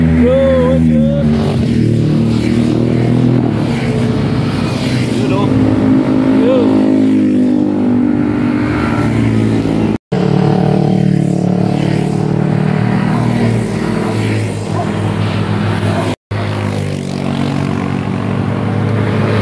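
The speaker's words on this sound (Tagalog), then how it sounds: "nandito kasi tayo ngayon sa gilid ng Marilaki Infanta Quezon Highway" Vehicles pass on the Marilaki Infanta Quezon Highway with close engine drones and revving. Loud, steady traffic noise runs beneath people talking nearby.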